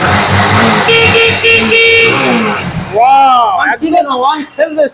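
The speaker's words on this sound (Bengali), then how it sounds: "গাড়ি সাউন্ড শুনতে পাবেন দেখুন ওয়ান ক্লিকে গাড়ি স্টার্ট" A Bajaj Avenger 220 Street motorcycle at a bike showroom runs loud and close, its engine droning with a steady tone for about three seconds before people start talking over it.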